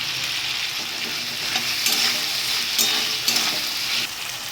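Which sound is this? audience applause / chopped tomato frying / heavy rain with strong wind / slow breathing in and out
chopped tomato frying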